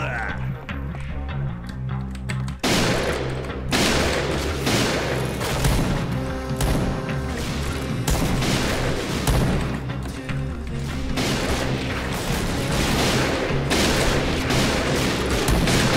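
Game gunfire from Point Blank, an online shooter, with a sniper rifle in play: dense, continuous volleys of shots and booms across the whole stretch, loud and busy, with an excited voice talking over the fighting.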